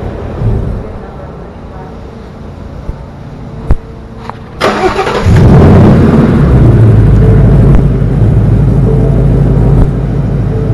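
A 2018 Mustang GT engine cranks and catches around the middle, then settles into a loud, steady rumbling idle with slight revving, close by.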